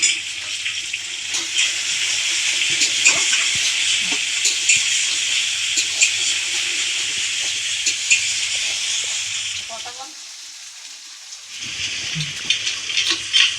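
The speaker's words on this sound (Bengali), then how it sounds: "মশলাটা দিয়েছি তেলের উপরে, মশলাটা কষিয়ে নিচ্ছি এখন।" Spices frying in oil for a meat curry cooked over a wood fire, a steady close hiss and sizzle lasting most of the clip, briefly dropping out near the end before returning.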